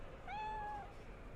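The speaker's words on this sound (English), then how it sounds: "Hey, it's a kitty. Can I pet the kitty?" A cat in the Cyberpunk 2077 game gives a single clear, high, drawn-out meow, faint against a quiet background hum.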